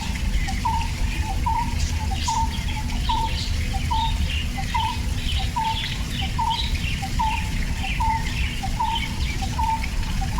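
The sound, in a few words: birds chirping outdoors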